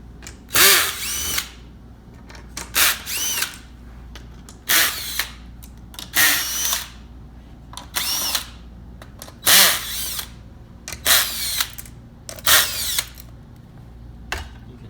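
A power drill removes headliner hardware in about ten short, loud bursts of whirring, separated by quiet gaps with faint handling noises.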